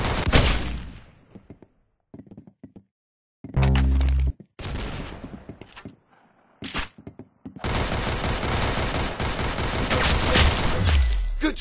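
Gunfire in the Roblox game Arsenal: sharp bursts of shots and rapid automatic fire come in clusters separated by short silences, ending in a long sustained volley, loud and close.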